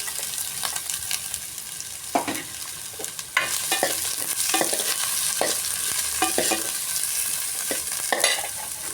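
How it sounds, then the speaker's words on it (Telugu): Onions and green chilies fry in a pan with a constant bright sizzle, broken by repeated scraping stirs of a spoon against the pan. "ఉల్లి పచ్చిమిర్చి అన్నీ వేసుకుంటానండి ఒకసారి, బాగా వేగుతాయి"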